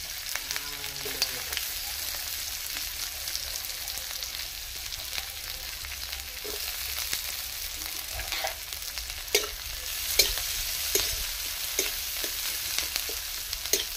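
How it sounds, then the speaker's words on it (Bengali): Chopped onions fry in hot oil for potato chop, giving a steady close sizzle with scattered scrapes and taps of stirring throughout. "পেঁয়াজগুলো একটু লাল লাল ভেজে নিলাম"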